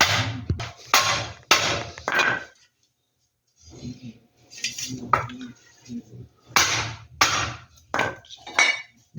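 A hammer tapping a part into place on a Whirlpool top-load washing machine under repair for a noise problem: clusters of sharp metallic knocks, a short pause, then more rapid strikes, with brief speech in between.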